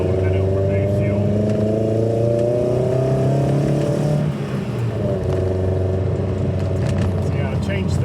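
A car with a carburettor-to-individual-throttle-body conversion drives along, its engine note rising and falling with revs and gear changes, loud and close with some rattling.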